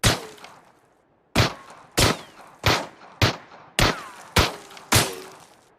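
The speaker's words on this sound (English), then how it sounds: "There's also bullet whiffs or sound effects now." A rapid series of eight sharp gunshot-like cracks from PUBG, each with a short whooshing tail as bullets whiff past, sounding loud and close after a brief quiet opening, with no talking.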